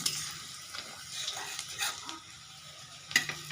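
Chopped ginger, garlic and spices stirred in a frying pan for a moong dal with fish head, soft sizzling under light scraping and clinking of a utensil against the pan, close and quiet, no talking.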